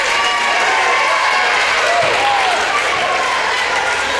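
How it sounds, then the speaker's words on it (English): Loud, steady applause from a large crowd at a basketball game after a foul call fills the space, continuous throughout with no pauses. "And they're clapping loud just because they actually called a foul on them."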